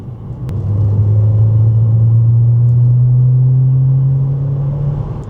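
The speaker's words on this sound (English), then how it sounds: "The car drives perfectly almost." Interior drive in a BMW 320i, a loud steady engine drone with a sustained low tone rising slightly in pitch as the car pulls along, and a single faint click near the start.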